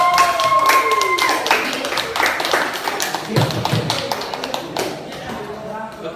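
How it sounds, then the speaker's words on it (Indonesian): Students in a classroom clap for their classmates after a presentation on ASEAN, a burst of brisk handclaps mixed with taps and thumps that trails off, with a voice speaking over the start. "Berikan tepuk tangan untuk teman-temannya."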